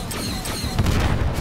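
Grenade blasts in the VR game Star Wars: Tales from the Galaxy's Edge, heard as a dense run of low booming thuds and crackling gunfire-like bursts layered close together across a short, loud stretch.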